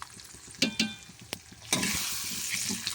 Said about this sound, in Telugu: ఇంకోండి కొంచెం నెయ్యి, కొంచెం ఆయిల్ వేసుకుని అవి మరిగాక పోపులు అన్నీ వేసుకుని ధనియాల పొడితో సుద్దా వేసుకోవాలండి